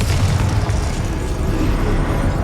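Confringo fire spell exploding in Hogwarts Legacy combat, a loud, dense boom of rumbling blast noise that fills the whole moment with no pause.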